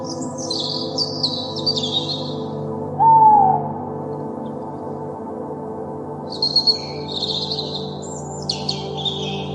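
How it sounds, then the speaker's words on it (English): Owl hooting in a forest at night, heard as a single clear hoot rising above a steady low background hum, with fainter bird chirps and tweets at the start and end. "Who flies silently through the night and has big round eyes? Our first animal is the owl."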